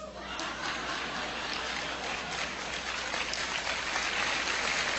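An audience at a gathering welcoming newcomers breaks into sustained applause, a dense, steady wash of clapping that holds loud throughout with no gaps.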